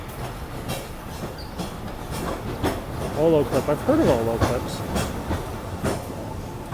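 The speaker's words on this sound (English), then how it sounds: "Here comes the tram." A Hong Kong Peak Tram rumbles past on its rails with clicking and rattling, a brief squeal of wheels in the middle, while someone talks over it.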